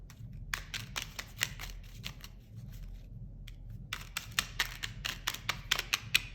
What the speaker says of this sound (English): I love shuffling these small cards.